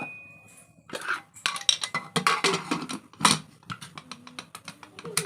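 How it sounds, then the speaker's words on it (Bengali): A metal pressure cooker lid being fitted and closed over rice in a home kitchen: a close run of sharp clinks, clatters and clicks, irregular and bunched, with short quiet gaps between. "দিয়ে প্রেশার কুকারটা বন্ধ করে দিলাম"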